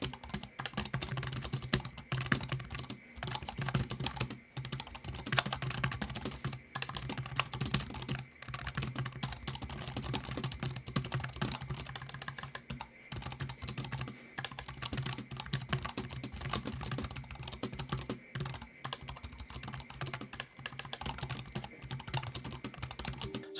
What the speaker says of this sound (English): I still feel it produces a pretty nice satisfying click while you type on it